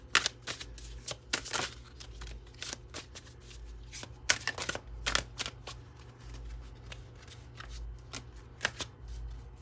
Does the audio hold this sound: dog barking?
no